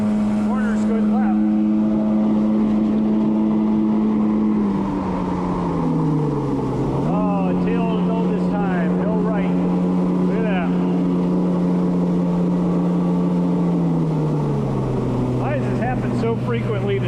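Yamaha Waveblaster 2 two-stroke jet ski riding on water, its engine droning loud and steady with a pitch dip and recovery through a turn, splashing water and wind noise throughout, with a rider talking at times.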